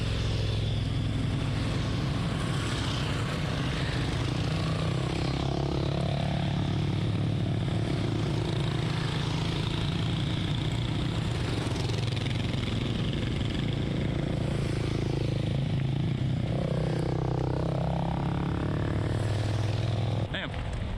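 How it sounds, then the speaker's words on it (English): Several motorcycle engines drone and whine past one after another, rising and falling in pitch over continuous wind and road noise, with some talking. "we got some motorcycles coming"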